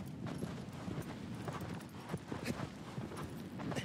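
Hooves clip-clop steadily from a horse in the video game Shadow of the Colossus, a faint, continuous walking rhythm with irregular soft thuds.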